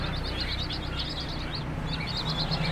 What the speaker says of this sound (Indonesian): yang saya beli ini burung pelinci nih